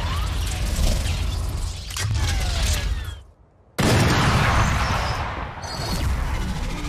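Vandal rifle gunfire with a cosmetic skin in the Valorant video game: bursts of rapid, crisp shots with clattering mechanical effects, a brief near-silent gap in the middle, then more loud firing.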